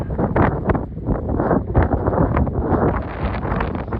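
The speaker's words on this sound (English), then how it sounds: "Just got windy." Steady wind gusting across the microphone on a mountain near Moses Peak, a broad continuous rumble and rush with uneven surges, no voices.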